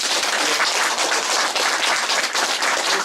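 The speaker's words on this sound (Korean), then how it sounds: "박수 한 번 부탁합니다." A crowd of party members gathered at a politician's office applauds steadily, dense overlapping clapping filling the room throughout, with no speech over it.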